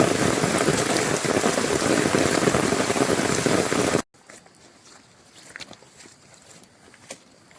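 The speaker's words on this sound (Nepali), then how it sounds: "पानी एकदम पुरा पानी परेको अवस्था छ है" Heavy rain pours in a loud, constant hiss on a steep, foggy, leech-infested mountain trail for about four seconds, then cuts abruptly to quiet with faint scattered drips and footsteps.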